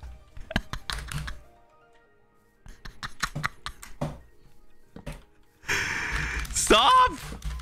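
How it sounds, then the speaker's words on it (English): Rapid clicking keystrokes on a computer keyboard come in irregular bursts, typed hard and fast, followed by a louder stretch of game noise and voices. "I can hear you typing angrily."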